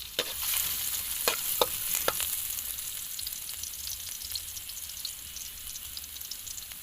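Garlic frying in hot oil gives a steady, close sizzle with light crackles and a few sharp stirring clicks early on, continuing evenly throughout without speech.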